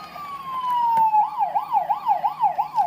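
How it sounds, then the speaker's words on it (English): An electronic siren from a toy fire truck that slides down and then warbles up and down rapidly, loud and close, like a small battery-powered toy siren. "Second toy is this fire truck."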